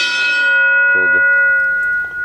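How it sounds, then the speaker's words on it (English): A steamship bell is struck once and rings with a bright, sustained metallic tone that slowly fades, with a brief voice sounding under the ring. "Steamship bell right here."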